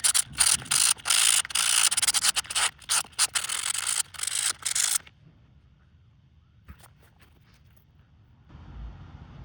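Rapid back-and-forth rubbing of 600-grit super fine wet sandpaper during floppy disk drive repair on an Akai MPC 60 drum machine, loud and close for five seconds, then stopping into near silence and faint handling.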